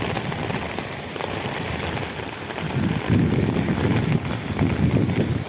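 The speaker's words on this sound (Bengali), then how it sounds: "এই যে দেখেন প্রচুর আকারে বৃষ্টি হচ্ছে" Heavy rain pours outdoors during the mango and jackfruit season, a dense steady roar that grows louder and rougher halfway through, with some wind buffeting and no talk.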